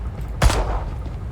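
A single loud, sharp gunshot cracks out in the police video game Police Simulator: Patrol Officers, with a short echoing tail over low background noise.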